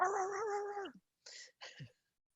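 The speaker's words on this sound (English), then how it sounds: "Oh, Steve's cat" A cat gives a drawn-out, wavering meow followed by two shorter, softer calls after a brief pause, heard close and alone with no talking.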